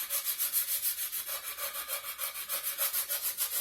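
Sandpaper on a wood block rubs back and forth over a marble tile edge, quick regular scraping strokes, about six per second, close and steady with no talk.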